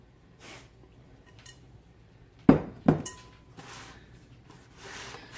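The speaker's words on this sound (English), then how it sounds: "Now I'm going to put this in this pan." Thanksgiving leftovers going into a pan for a freezer meal, with two sharp clinks of dishware close together in a quiet kitchen, followed by faint softer knocks and scraping.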